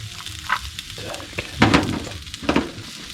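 Onions tossed into a frying pan for smoked duck fried rice, giving a soft sizzle with scattered stirring scrapes and light clatter of utensil against the pan.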